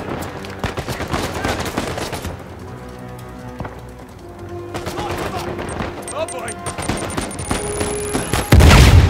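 Gunfire in the video game Uncharted 4 crackles in rapid bursts and scattered shots, easing briefly before picking up again, with a player talking over the fighting.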